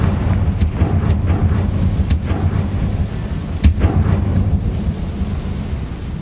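Confringo fire-blast spells cast in Hogwarts Legacy, a rumbling roar of magic and combat noise punctuated by several sharp cracking impacts, one stronger blast near the middle.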